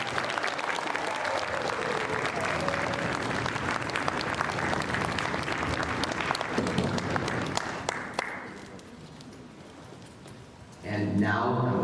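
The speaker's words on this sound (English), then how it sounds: "Please join me in giving a big round of applause for Maria." A crowd gives a big round of applause for a keynote speaker at a youth summit, loud dense clapping that fades down after about eight seconds before a voice starts speaking.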